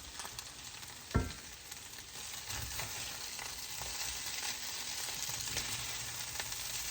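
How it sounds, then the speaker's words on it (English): Okra pieces coated in cornmeal breading fry in a hot skillet, giving a steady, moderately loud sizzle and crackle throughout, with one sharp knock near the start and no voices. "each piece of okra would be sitting on that hot surface of that skillet to brown the cornmeal on it, to brown the breading"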